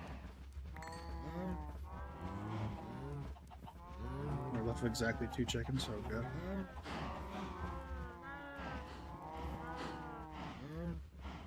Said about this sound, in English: Cow needs to go though.